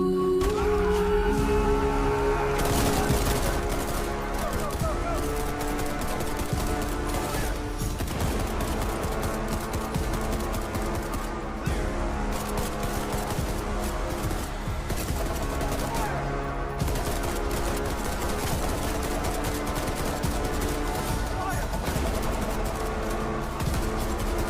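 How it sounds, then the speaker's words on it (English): Gunfire in a played action scene, dense sustained shooting and bursts over a loud music score, continuous and close throughout. "a lot of shooting"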